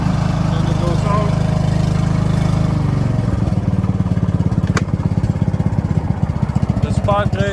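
A Stiga Park Compact ride-on lawnmower's engine runs loud and close, a steady throbbing drone with a pulsing beat that roughens slightly partway through.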